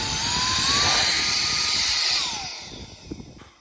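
Dnipro-M VC-10BC cordless car vacuum with a blower nozzle fitted, set to its third speed and blowing water off a car: a loud, close, high whine that holds for about two seconds, then winds down and drops away.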